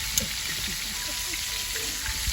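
Chicken fried steak sizzles in a frying pan, a steady bright crackling hiss with occasional pops, close and continuous, with no talk over it.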